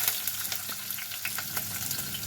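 Onions and fennel seeds fry in a pan with a steady, close sizzle, broken by light scraping stirs and small pops throughout.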